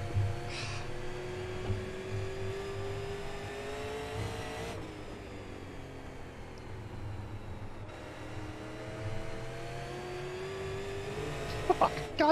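Super late model race car in the iRacing sim at Concord: a steady engine drone whose pitch slides downward and then climbs again, with tire noise and a few sharp knocks near the end as the car crashes and flips.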